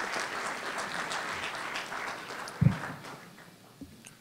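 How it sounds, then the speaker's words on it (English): Audience applause at a youth forum event, a steady wash of many hands clapping at moderate volume that gradually thins out, with a couple of sharp, close bumps partway through. "We can give yourselves a round of applause for that."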